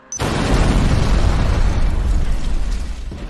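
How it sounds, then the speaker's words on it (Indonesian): A car blows up in a film scene with hostages trapped inside, a sudden loud blast followed by a sustained roaring rumble of fire and debris that fills the whole clip. "Jeong meledakkan mobilnya bersama dengan Ju Cheol dan Aikawa yang masih disandra di dalam"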